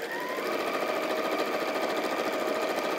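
A sewing machine runs a reverse stitch, its needle chattering in a rapid, steady mechanical rhythm, close and continuous with no talk.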